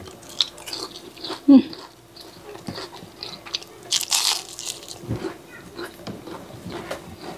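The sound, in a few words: biting into crispy breaded chicken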